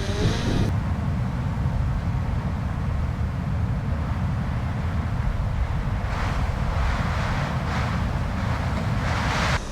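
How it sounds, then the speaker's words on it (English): Strong wind of about 20 mph roars steadily into the microphone, a constant loud buffeting rush with no letup. "That thing's in about 20 mile an hour sustained wind right now."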